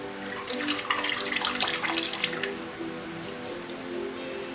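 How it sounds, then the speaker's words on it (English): Orange juice being poured into a pan with garlic while making mojo pulled pork, heard as a soft splashing trickle that fades out midway, leaving a quiet low hum. "take a little bit more of this orange juice just to get the bottom little bits and garlic"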